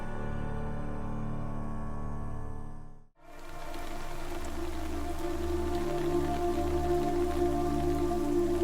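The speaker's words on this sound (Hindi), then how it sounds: "देखिए बारिश भी हो रही है" Steady rain falls outdoors in a drama scene, a dense, even hiss of drops on surfaces that cuts out briefly and then returns fuller and louder, with no talking over it.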